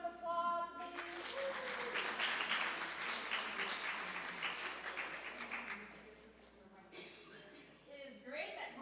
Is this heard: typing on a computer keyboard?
no